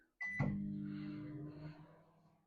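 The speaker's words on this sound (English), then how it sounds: "Let's chuck it in the microwave" A short beep followed by the steady low hum of a microwave oven running, fading slightly toward the end.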